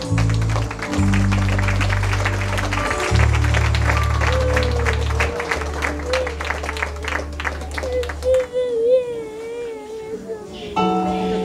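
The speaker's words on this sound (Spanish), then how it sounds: "Fuertes aplausos" Quinceañera guests applauding as the godparents enter, with sustained crowd clapping over loud, steady low music, and a baby whimpering and crying as the clapping fades near the end.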